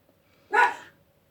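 A terrier gives a single short bark, fairly close and moderately loud, against a quiet indoor background.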